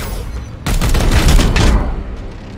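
In Warhammer 40k: Chaos Gate - Daemonhunters, a sudden loud burst of gunfire erupts after a quiet start, a dense rattling volley lasting about a second before tailing off into lingering rumble.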